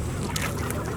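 A flock of ducks being fed pieces of an oat bar, crowding and squabbling with a dense mix of honks and quacks, loud and close over steady ambient noise.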